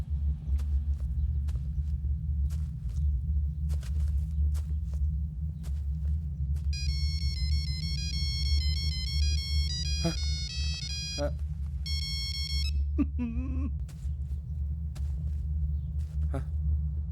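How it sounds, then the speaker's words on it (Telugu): A mobile phone ringtone plays a bright electronic melody in two short bursts at an office, over a steady low rumble and occasional clicks. "Ring tone sir."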